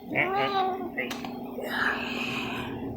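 A black female cat meowing indoors at home, a few short close meows mixed with soft breathy whispering and murmured talk from a person nearby.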